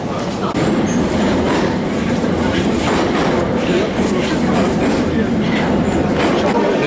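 Saint Petersburg metro train riding underground, heard from inside the car as a loud, steady roar of wheels and tunnel noise with rhythmic clacking and some squeal, continuous for several seconds.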